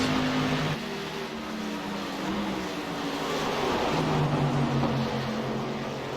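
Pro Series racing truck accelerating on the track at Gateway, a steady, loud engine drone with the pitch climbing and shifting, then easing and rising again, continuous throughout.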